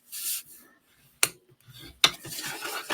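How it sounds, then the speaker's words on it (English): A tool burnishing score lines on cardstock for a Stampin' Up! tower card, heard as two or three short, close rubbing swipes separated by near silence. "Let's go ahead and burnish them."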